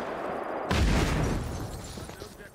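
A bomb goes off in Just Cause 3, a sudden heavy booming blast that hits hard then rumbles and fades over a couple of seconds amid game noise.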